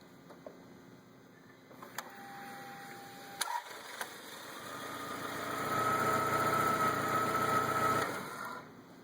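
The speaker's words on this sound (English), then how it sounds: "So go ahead and start it, and we'll let it run for a few seconds and shut it back off." A car engine starts during a battery load test after a few faint clicks, runs at a steady idle for several seconds with a constant hum, then shuts off.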